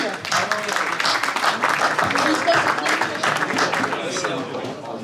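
A crowd applauds in a saleroom at a French classic car auction of Général de Gaulle's Citroën DS and GS, steady clapping with a murmur of voices running through it for several seconds after a lot is sold for 6,000 euros.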